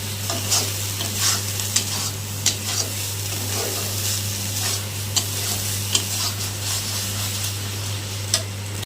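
Mashed taro paste fries in a pan as its water cooks off, a continuous soft sizzle broken by repeated sharp spatula scrapes and ticks at irregular intervals, over a low steady hum.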